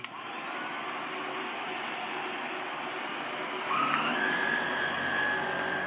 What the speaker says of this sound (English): Are we gonna vacuum? Okay, let's go vacuum